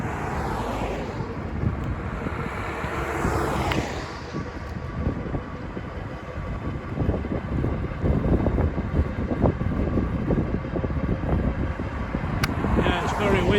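Strong wind buffets the microphone in loud, rumbling gusts while an electric bike rides along, the roar swelling and easing throughout with no clear speech.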